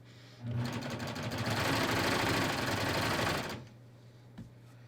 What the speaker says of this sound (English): And I'm going to stitch straight across.